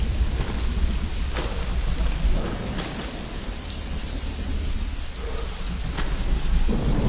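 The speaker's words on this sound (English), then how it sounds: "Oh, I'm loving this with the rain," Steady heavy rain with rumbling thunder fills a medieval-castle video game scene, a dense continuous downpour with low booming rolls and a few sharper cracks, no voices.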